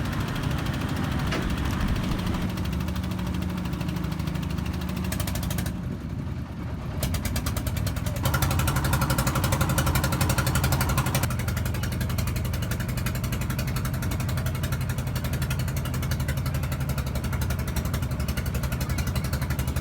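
A boat's engine on the Jamuna river drones steadily and loudly throughout, a close, unbroken mechanical rumble with faint shifts in pitch, no voices over it.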